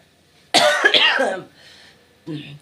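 A person with a cold gives a harsh cough burst followed by a shorter second cough, close and clear, with no words spoken.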